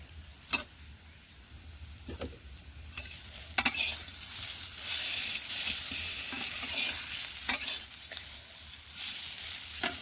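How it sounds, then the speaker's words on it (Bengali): Mango pieces fry in oil tempered with mustard seeds and dried chili, a steady close sizzle broken by occasional sharp clinks of a spoon stirring against the pan. "সর্ষে শুকনো লঙ্কা ফোড়ন দিয়ে আমগুলোকে একটু তেলে ভেজে নিলাম"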